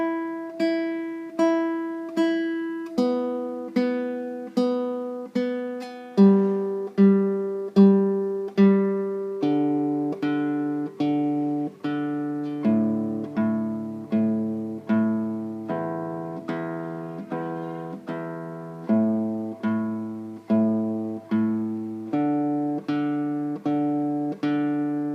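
Classical guitar open strings are plucked one at a time with alternating fingers in a steady even pulse, each note ringing clearly before the next. The pattern moves through the strings in groups, with no talk.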